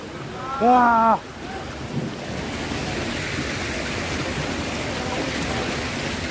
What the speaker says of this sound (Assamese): আমি সাগৰত আহিছো চাওক সাগৰ